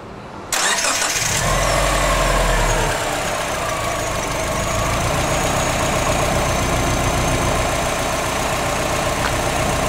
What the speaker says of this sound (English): Okay, so the engine's running.